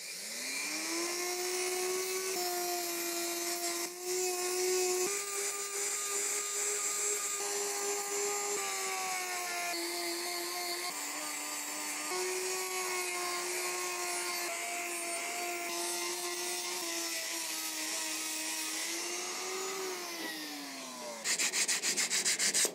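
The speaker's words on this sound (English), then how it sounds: "I couldn't get it to a high enough polish with that rotary tool" A rotary tool polishing the head of an old hammer gives a continuous high-pitched whine with shifting tone as the bit presses against the metal. It sounds close and steady, and it cuts out near the end.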